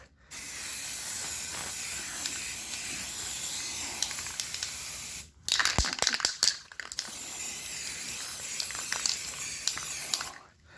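A spray can hisses out primer onto plastic model sprues in long, steady bursts. A short break partway through brings crinkling and handling noises, and then the spraying starts again close up.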